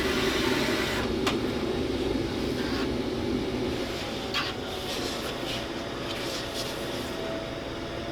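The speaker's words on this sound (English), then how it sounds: "So you're going to see the vacuum turned on." Vacuum of a sticker cutting machine running, a steady broadband whoosh with a low hum underneath that holds at an even level, with a few faint clicks over the top.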